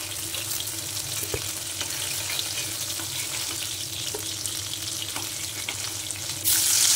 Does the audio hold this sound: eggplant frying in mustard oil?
yes